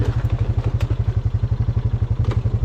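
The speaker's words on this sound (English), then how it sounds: "Sorry if my engine's a little loud" A motorcycle engine chugs steadily up close, a rapid low rhythmic thumping with faint clatter, no voices.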